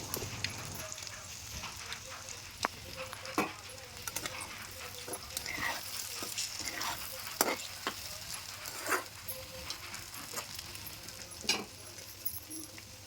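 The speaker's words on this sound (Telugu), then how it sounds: "ఎగ్స్ అయితే ఆయిల్లో మంచిగా ఫ్రై అయ్యాయి" Eggs frying in hot oil for a garlic chili fry, a steady close sizzle punctuated by repeated sharp spatula taps and scrapes at irregular intervals.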